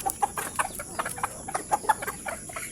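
Chickens at a small chicken farm cluck in quick, repeated short notes while being fed, several birds close by with a few louder calls standing out.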